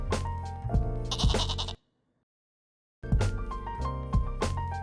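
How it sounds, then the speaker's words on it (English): A goat bleats loudly and repeatedly in two bursts separated by a brief silence, close and clear with no talking. "the goat bleats."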